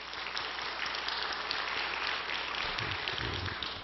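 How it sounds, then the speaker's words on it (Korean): A church congregation claps steadily in sustained, dense applause at an early-morning prayer service, a continuous wash of many hands at moderate level with no voices over it. "우리 하나님께 감사의 박수 한번 드립시다"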